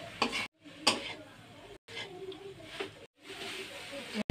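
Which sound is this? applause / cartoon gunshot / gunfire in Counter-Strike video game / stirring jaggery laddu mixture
stirring jaggery laddu mixture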